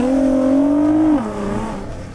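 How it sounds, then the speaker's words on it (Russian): The stock engine of a BMW at a race track revs up to a loud, steady high drone, then drops in pitch as the throttle eases. It is heard close up with no talking. "Давайте покажем, как должна звучать настоящая пацанская тачка."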